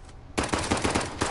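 Rapid bursts of automatic gunfire from a gun in an Uncharted 4 multiplayer match ring out loud and close, a rattling string of shots after a brief quiet start.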